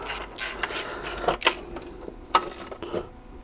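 A small screw is tightened by hand on the alternator of a Chrysler 300C CRD 3.0 diesel. Faint ratcheting and metallic clicks come in an irregular series over a low background hum.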